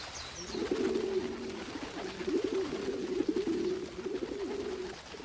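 In an Air Gear anime scene, pigeons coo in soft, repeated low warbles that run continuously over a quiet background, with no talk over them.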